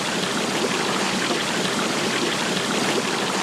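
Water from a tank hooked to a fire hydrant leaks and runs out in a loud, steady rushing splash that holds constant throughout, with no voices.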